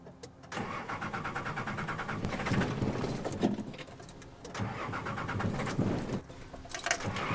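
A 4x4 stuck on a winch line has its engine cranked and started, then keeps running steadily and fairly close; the car's keys jangle briefly near the start.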